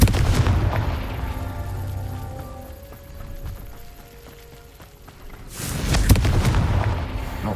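Confringo spell explosions in the video game Hogwarts Legacy, with a loud booming blast at the start, a quieter rumbling stretch, then a second heavy burst near the end, no voices.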